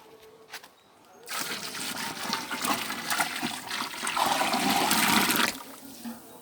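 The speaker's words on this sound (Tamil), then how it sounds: "இப்போ இதை வந்து நம்ம சட்டியில் ஊற்றிடலாம்" Dissolved ground masala paste, mixed with water, is poured from a vessel into a large cooking pan for hotel-style parotta salna. It makes a loud, sustained watery gush and splash that lasts several seconds, then stops abruptly.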